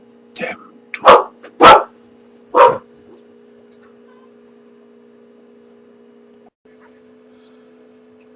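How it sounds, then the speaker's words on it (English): A dog barks several times, four sharp loud barks in close succession early on, then quiet with a steady low hum underneath. "Damn dog."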